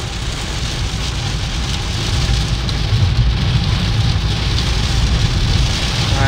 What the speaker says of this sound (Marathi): भयानक पाऊस पडतो